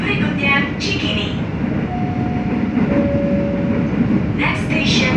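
A KRL commuter line train in Jakarta rumbles loudly and continuously on its ride, with steady rail noise, a brief high tone and a few faint announcement-like sounds.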